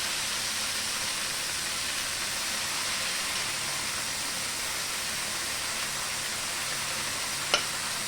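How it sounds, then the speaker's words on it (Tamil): Manathakali greens sautéing in a pan with tomato and onion give a steady, even sizzle that runs unbroken throughout, with a single brief click near the end and no talking. "தக்காளி வெங்காயம்லாம் வதங்கி வச்சு கீரையை போட்டுக்கலாம்."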